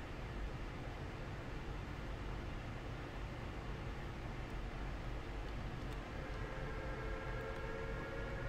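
A train rolling along the track in Train Sim World, a steady broadband rumble and hiss that holds even throughout, with faint high squeal hints of braking toward the end.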